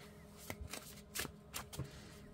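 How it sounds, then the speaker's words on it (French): Tarot cards being shuffled by hand, a quiet papery riffle in several short bursts with brief pauses between them, close and soft, with no talking. "on va terminer du coup avec une petite carte du tarot ici. Je vais d'abord le mélanger"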